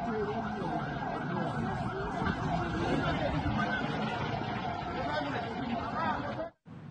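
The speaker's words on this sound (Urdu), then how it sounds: "اسی وقت فضائی حملے کے سائرن پھر بج اٹھے" Air raid sirens wail in Israel, a steady continuous tone heard from a distance under a crowd's chatter, then cut off abruptly near the end.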